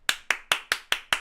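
Six sharp claps in a steady, quick rhythm, close and crisp, with no voices.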